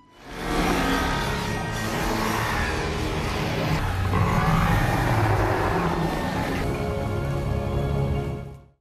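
Ken's car pulls away, its engine note rising and holding as it drives off, a steady motor whir and roar sustained for several seconds before cutting out abruptly at the end.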